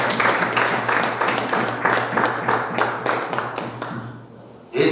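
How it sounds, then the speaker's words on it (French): An assembly applauds an election result for a technical group's president, rhythmic clapping in a steady pulse over a low hum, gradually thinning out before a brief final thump. "Sous les applaudissements."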